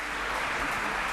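An indoor conference audience applauding the speakers, a dense patter of clapping hands that fills a brief burst.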